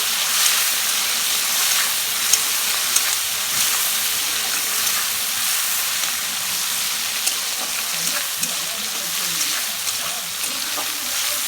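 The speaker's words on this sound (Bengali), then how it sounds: "চিংড়ি মাছ ছেড়ে দিয়ে একটু নেড়ে নেব" Prawns sizzle steadily and loudly in hot oil, with occasional light clicks of stirring in the pan throughout.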